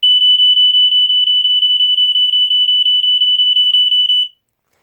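A Square-D Earli-Gard EGD-5B smoke detector sounds a loud, piercing single-pitched alarm, beeping in a fast, rapid pulse for about four seconds, then cutting off abruptly to silence.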